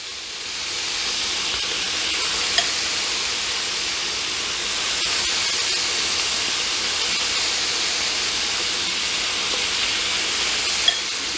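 Steak frying in a pan with garlic butter produces a loud, steady sizzling hiss that runs unbroken throughout, with a couple of brief pops.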